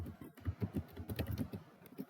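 Close, rapid keystrokes on a computer keyboard as someone types a command at a prompt, a quick, uneven patter of clicks with no speech.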